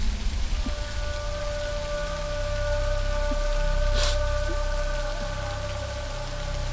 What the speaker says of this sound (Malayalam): പുറത്ത് നല്ല മഴയുണ്ടോ? നല്ല ശബ്ദം, അഷ്ടകലാശം ചവിട്ടണ മഴ.